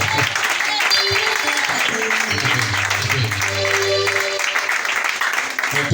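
A church congregation applauds in a sustained, dense wash of clapping that fills the room and holds steady throughout, with voices and a speaker heard over it.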